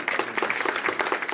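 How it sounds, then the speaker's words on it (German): An audience at a company dialogue event in St. Pölten, Austria claps in a brief burst of dense, fairly loud applause. "Applaus bitte für den Herrn Doppler."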